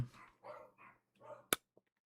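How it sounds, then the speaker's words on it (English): A dog indoors gives a few soft, muffled barks and yips, followed by one sharp, loud knock and a couple of faint clicks in an otherwise quiet room. "Doggo bark."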